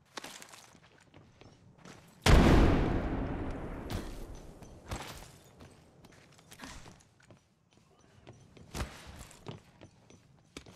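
A frag grenade in Apex Legends detonates in one loud, close boom that trails off over a second or two, followed by scattered footsteps and sharp clicks and thuds.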